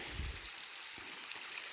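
Steady broadband rush of running water from a waterfall on a farm, continuous and fairly close, with a few low splashes and gurgles and no voices.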